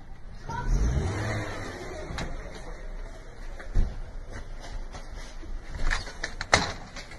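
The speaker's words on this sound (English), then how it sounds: "Dan, your wheels are not spinning anywhere" A car stuck in a snow bank revs its engine repeatedly in rising and falling surges, heard from nearby outdoors with some clunks and background noise mixed in.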